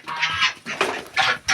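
A goose lifted off its nest gives four loud, harsh honking calls at close range, separated by short pauses, with no talk.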